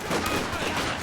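Rapid bursts of M1919 Browning machine gun fire in a World War II multiplayer shooter match, dense crackling gunfire rattling continuously amid the noisy din of battle.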